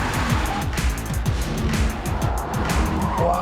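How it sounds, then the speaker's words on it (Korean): A Porsche Taycan's motor and tires roar steadily at close range as it brakes into a corner, with a faint squealing edge and no talking. "자, 코너 들어갑니다. 브레이킹."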